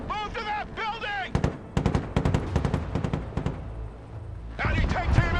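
Automatic gunfire in the real-time military strategy game Broken Arrow crackles in rapid, scattered bursts at mid-distance, with shouted soldier voice lines before and after the firing.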